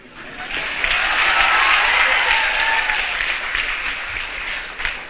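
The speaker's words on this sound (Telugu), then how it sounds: "మీరు చప్పట్లు కొట్టక్కర్లేదమ్మా" An audience at a spiritual discourse claps steadily for several seconds, a dense wash of hands that rises quickly, holds, and tapers slightly toward the end.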